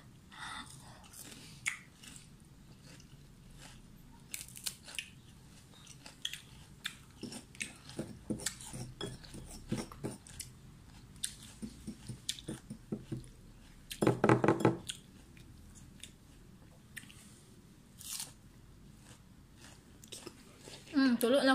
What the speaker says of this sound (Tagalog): Makakaon lang tambis.